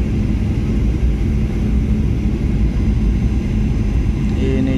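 Airliner landing at Jakarta, a loud steady roar of engines and rushing air heard from inside the cabin, continuous rumble without a break.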